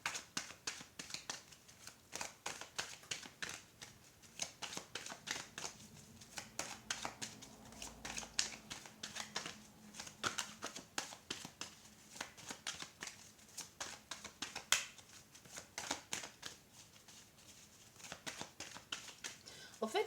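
A deck of cards being shuffled at close range, with many quick riffling bursts and flicks repeating over the whole stretch, quiet overall and joined by a soft voice speaking at times.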